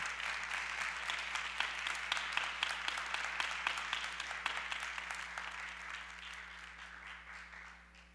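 Audience applause in a church hall welcoming a guest lecturer at a youth and university students' talk, steady dense clapping held for several seconds and slowly tapering off, with a low hum underneath.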